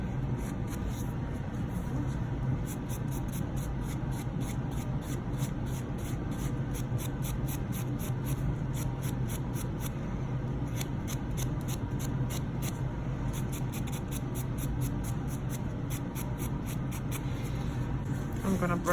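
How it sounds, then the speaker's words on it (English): A 180 grit nail buffer files across acrylic gel nails, making a continuous close scratchy rubbing with quick rhythmic back-and-forth strokes throughout. "use the buffer on the other two, which this one is like a 180 grit."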